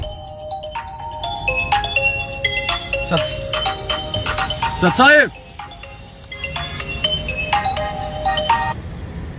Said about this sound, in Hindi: वो उसका फाजिल भाई का और टाटा वाले का फोन आ रहा है, उठाओ।